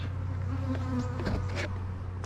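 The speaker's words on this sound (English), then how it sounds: "Look at these bees, how fast they're hitting this." Steady, close buzzing of many bees around a feeder, a dense insect drone with a low hum that persists throughout without pause.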